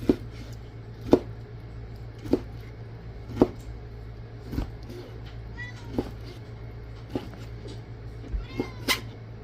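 Cats meow repeatedly, several short cries spaced a second or so apart over a low steady hum, with some overlapping calls near the end.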